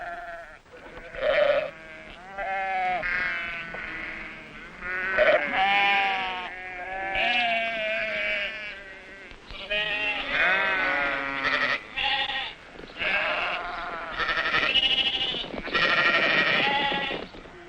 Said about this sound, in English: Veterinary teams now travel from herd to herd to inoculate the sheep.